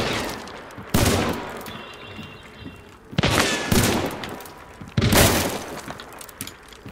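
Gunfire in the video game Hunt: Showdown, three heavy bursts of shots with sharp cracks and long rumbling decays, loud and close, with no talk.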